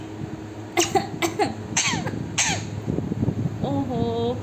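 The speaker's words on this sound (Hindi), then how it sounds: "ओहो खांसी आ गई मिट्टू को।" A parrot gives several harsh, raspy coughs in short bursts, followed by a chattering, squeaky call.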